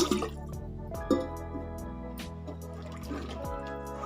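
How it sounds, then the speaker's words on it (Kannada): Water is poured into moong dal lentils in a pressure cooker, a short liquid filling and dripping sound over steady background music. "ಈಗ ನಾವು ಇದಕ್ಕೆ ಸ್ವಲ್ಪ ನೀರು ಹಾಕೊಳ್ಳೋಣ"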